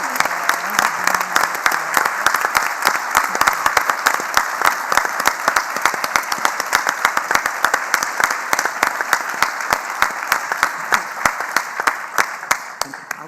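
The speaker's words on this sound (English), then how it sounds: "we should give this incredible panel a huge round of applause" A festival audience gives a discussion panel a loud, sustained round of applause, dense and close clapping with many sharp individual claps that carries on unbroken and tapers slightly toward the end.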